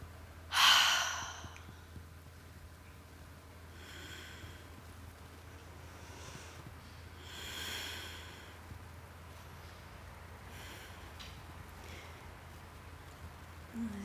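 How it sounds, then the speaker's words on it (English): Slow, easy breathing during yoga practice in child's pose: one sharp audible inhale near the start, then soft, faint breaths at long, even intervals in a quiet room. "take 3 easy, grounding breaths"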